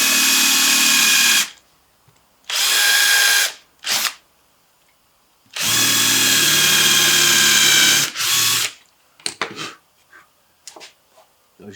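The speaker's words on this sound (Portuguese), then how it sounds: "Vou furar mais um pouquinho aqui desse lado de cá" A power drill bores into wood around a nail to free it, running in several loud, close bursts of a few seconds each, separated by short pauses and softer clatter.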